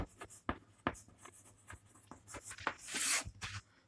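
Pen writing an elimination-method equation for a pair of linear equations on paper, close and quiet, a quick run of scratchy strokes and taps with an irregular rhythm.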